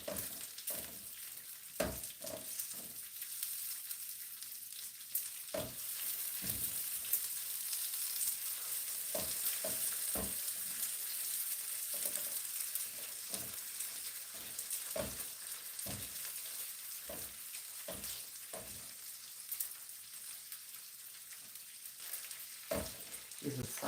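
Bacon sizzles and crackles in a pan over a small gas flame, a soft steady fry with scattered pops and occasional scraping throughout.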